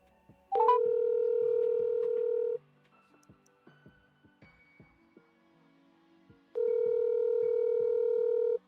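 An outgoing phone call rings back with two long, steady electronic tones separated by a quiet pause, with faint tapping and clicks in between.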